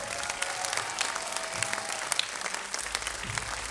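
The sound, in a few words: audience applause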